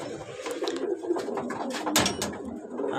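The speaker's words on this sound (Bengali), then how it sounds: "সবগুলোই মাদি কবুতর আলহামদুলিল্লাহ" Female pigeons in a loft coo close by, with soft repeated throaty calls and a few sharp flutters or knocks mixed in, and no talking.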